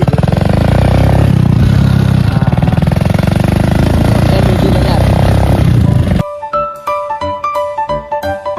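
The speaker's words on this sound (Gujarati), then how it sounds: "મારી દીધી બાઇક ચાલુ કરી દીધી." A motorcycle engine that has just been kick-started runs loudly and steadily nearby for about six seconds, then gives way abruptly to music.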